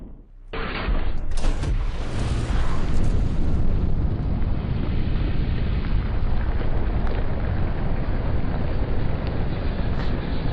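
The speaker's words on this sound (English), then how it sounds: "And then the rocket activates." A rocket from a pocket rocket launcher firing, heard as a sudden loud roaring blast that holds as a sustained, heavy rushing roar for several seconds, close and overpowering.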